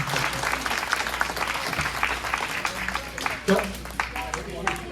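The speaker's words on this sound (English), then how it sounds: "So how about one more round of applause for our candidates?" An audience at a state senate and assembly candidate forum applauds the candidates, a fairly quiet spread of clapping mixed with crowd noise and some voices talking over it.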